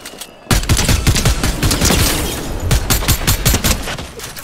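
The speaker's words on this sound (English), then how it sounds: "That's how you play with the new sticky grenade launcher" A sticky grenade launcher fires in Fortnite: a sudden loud onset followed by a rapid string of sharp bangs and thumps, close and dense for about four seconds, with no talk.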